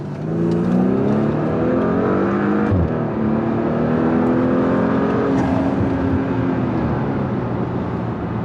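A Porsche Macan S engine revs hard in second gear in manual mode, climbing steadily in pitch, with a brief dip as it shifts before pulling strongly again; loud and close.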